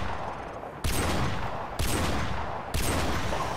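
Gunfire in the video game Call of Duty: Modern Warfare Remastered: three loud, abrupt volleys about a second apart, each a sustained burst of shooting that fills the mix.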